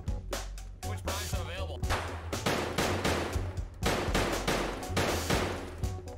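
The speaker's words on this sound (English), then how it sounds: "Been shooting non-stop." Sustained gunfire in Escape from Tarkov, loud sharp shots firing in quick bursts and rapid strings, nearly continuous over six seconds with only brief gaps, close and dominant.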